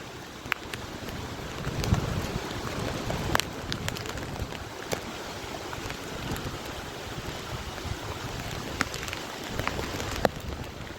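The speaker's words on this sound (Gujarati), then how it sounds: "વરસાદ પૂગી ગયો છે, આગમન થઈ ગયું છે બપોર કેડે" Afternoon rain falls on a farm field as a steady, dense patter with scattered sharper drips, and wind buffets the microphone throughout.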